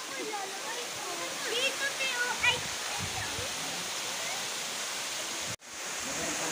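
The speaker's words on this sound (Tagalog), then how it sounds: "Nandito kami sa Dampalit Falls." Dampalit Falls in Los Baños, Laguna, pours in a steady, broadband rush of falling water that fills the whole stretch, with brief faint voices mixed in midway and a sudden drop before the roar resumes.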